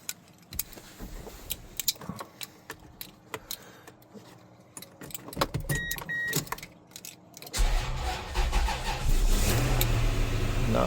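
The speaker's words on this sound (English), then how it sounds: "let's see if this thing will fire up" Toyota FJ40 Land Cruiser with a weak battery, heard first as a series of scattered clicks and rattles, then cranking into a loud, steady engine run that fills the last few seconds.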